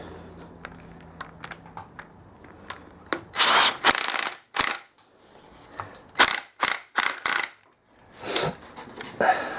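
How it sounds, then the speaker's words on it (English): Ratchet spinning the clutch centre nut onto a KX250F dirt bike during an engine rebuild, several short bursts of rapid metallic clicking, close and fairly loud, with gaps between. "we're going to spin this centre nut up"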